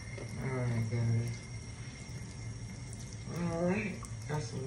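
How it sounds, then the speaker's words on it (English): A bathroom sink tap runs steadily during a teeth-brushing routine, a soft continuous wash beneath nearby voices. "You turn the water on?"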